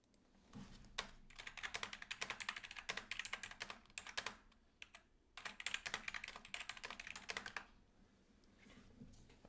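Rapid typing on a computer keyboard, a dense run of close, crisp key clicks in two long bursts separated by short pauses, with no voices over it.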